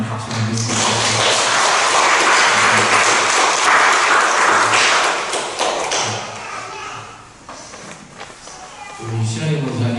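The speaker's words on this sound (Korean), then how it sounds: "우리 함께 우리 모두를 축복하고 격려하는 박수를 드리겠습니다." Congregation in a Sunday morning church service breaks into loud applause that runs for several seconds and then tapers off, with a voice speaking before and after it.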